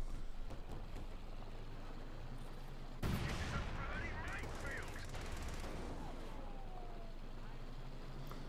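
Tank cannon fire in a World War II video game with a Panzer IV, a sudden loud blast partway through over constant battlefield rumble and noise, with a voice speaking throughout.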